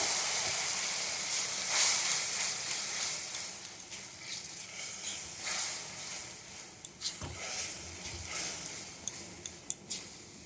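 Nigella seeds hiss and sizzle softly in hot oil that was just used to fry tilapia, with a few faint clicks of utensils against the pan.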